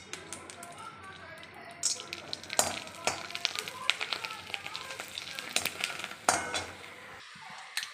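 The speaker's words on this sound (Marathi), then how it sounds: "चकुल्यासाठी पोंगे तळते मी" Colorful ponge snacks deep-frying in hot oil, a steady crackling sizzle with scattered pops and occasional clinks of utensils against the pan, with a voice talking over it.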